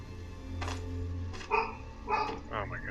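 Dogs barking in the video game Stoneshard, a few short yapping barks scattered over a low steady hum, fairly faint and somewhat distant.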